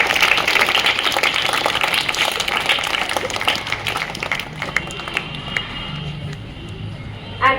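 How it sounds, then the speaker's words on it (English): Students and guests applaud at a school sports week prize distribution, a broad wash of clapping in a large crowd that thins and fades toward the end with scattered claps and murmur. "Please give them a big round of applause,"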